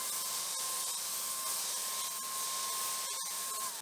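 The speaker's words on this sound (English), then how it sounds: "That's it, we just spray and go." A Wagner Flexio 590 paint sprayer spraying chalk paint, a loud, steady hiss and whine that runs unbroken for several seconds, close up and with no talking.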